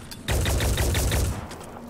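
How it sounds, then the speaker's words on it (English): Rapid automatic gunfire from an enemy shooting back in the video game Phoenix Point, a loud, steady burst of evenly spaced shots lasting about a second before trailing off. "Oh, he's shooting back."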